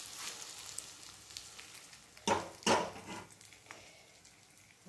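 Alu vadi sizzling in oil in a kadhai as the pan is swirled: a low, constant hiss broken by two louder bursts of crackling near the middle, with no talking.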